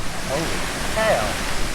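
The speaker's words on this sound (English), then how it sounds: "That is what a 100 plus mile per hour gust looks like." A hurricane-force wind gust from Hurricane Sally, above 100 mph, roars as a loud, steady broadband rush with rumbling buffeting against the microphone. A voice can be heard faintly in the wind.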